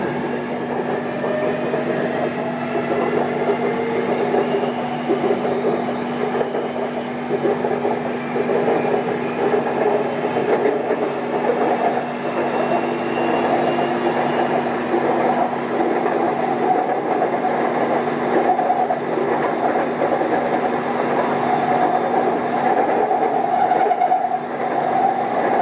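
BTS Skytrain on the Samrong–Kheha line in Bangkok running steadily, a continuous loud rail rumble with a sustained hum and faint rhythmic wheel clatter throughout, no talk.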